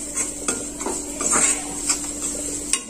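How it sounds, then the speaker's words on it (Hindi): Dal dhokli seasoned with salt and red chili being stirred in a pot, a spoon scraping and clinking against the metal in a few irregular knocks over a faint background hiss. "थोड़ा इसको चला लेंगे।"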